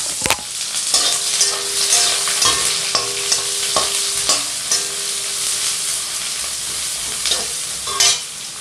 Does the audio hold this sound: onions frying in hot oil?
yes